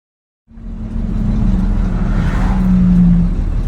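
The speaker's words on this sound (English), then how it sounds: "Truck." Truck driving past during a corn harvest, starting abruptly and holding a steady, loud low rumble and engine hum with a sustained tonal whine for about three seconds.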